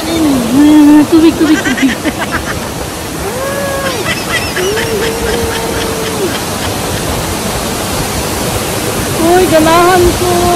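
Rushing water pours at a stream or waterfall at a sacred indigenous site, a constant broadband roar with several people talking and calling out excitedly over it.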